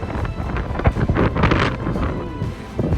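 Strong gusty wind on Irish sea cliffs blasting across the microphone, roaring and buffeting continuously with brief surges, no voices.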